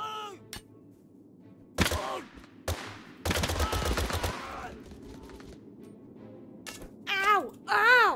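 Gunfire in the battle game TABS: sharp bursts of rapid shots, one sustained volley mid-way, with excited shouting voices at the start and end.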